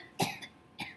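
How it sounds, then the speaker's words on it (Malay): Two coughs from a single person in a quiet indoor room, a strong close cough followed by a lighter second one about half a second later, with no talking. "Batuk siap."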